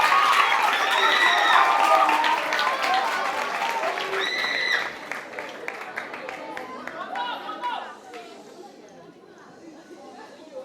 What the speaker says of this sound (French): Est-ce que les parents peuvent également applaudir et les encourager, s'il vous plaît?